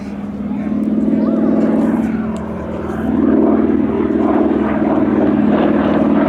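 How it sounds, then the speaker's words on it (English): A T-6 Texan / Harvard propeller trainer flies at the Shuttleworth airshow, its loud radial engine droning and swelling steadily as it passes close by, under a voice speaking. "It was, in all respects, a very significant aircraft, the T6 Texan or Harvard."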